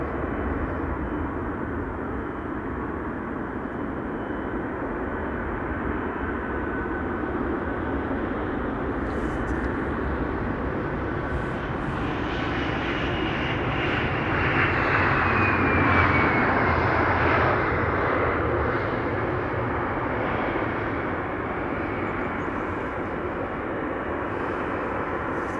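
A Delta airliner from Orlando landing at Amsterdam Schiphol makes a continuous jet roar that swells to a peak midway, with a descending whine, then eases off; no talking.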